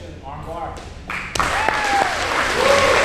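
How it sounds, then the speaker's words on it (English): A crowd at an amateur MMA event applauds, a broad wash of clapping that swells after a moment and holds steady while a voice talks over it. "gets a deserving round of applause from the audience there"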